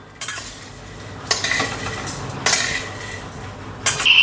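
Vermicelli roasting dry in a pan for shevayacha upma, with a metal spoon scraping and clinking against the pan in a few distinct strokes over a soft background hiss, close and fairly loud.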